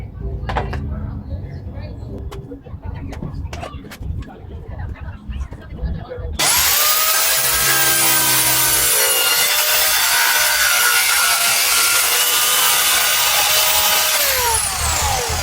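A jigsaw cuts through a plastic cover during a custom RV air conditioner installation, first with scattered handling clatter and then a loud, steady buzzing rasp that runs without break to the end.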